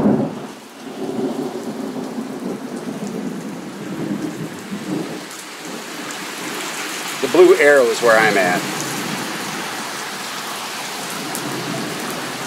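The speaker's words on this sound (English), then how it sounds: "Did you say torrential summer downpour?" A torrential summer downpour in Oklahoma pours steadily with a deep rumble of thunder near the start, and someone talks over the hiss of the rain.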